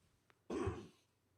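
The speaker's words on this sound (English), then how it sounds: "I'm already starting to get coughing" A single short cough close by, one rasping burst in an otherwise quiet room.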